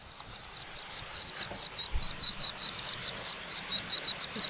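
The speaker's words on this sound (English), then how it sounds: "Oh, there's some baby birds in there." Baby birds in a nest in the Costa Rican rainforest canopy chirp in a fast, repeated series of thin, high peeps, close and fairly loud, with no talking.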